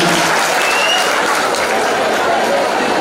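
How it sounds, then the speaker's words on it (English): An audience claps after a Kannada song at an institute foundation day celebration, a loud continuous round of applause from a large crowd that fills the whole stretch with no speech on top. "Please give a big round of applause."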